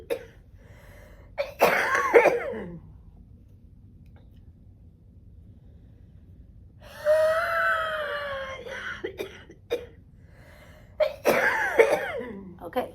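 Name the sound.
cystic fibrosis patient huff coughing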